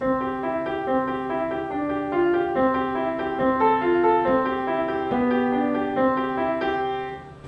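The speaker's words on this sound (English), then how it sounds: "which an Alberti bass sounds like this" Piano plays a steady repeating Alberti bass broken-chord pattern in the lower register, even and flowing, with melody notes ringing above it, in the style of Mozart's piano music.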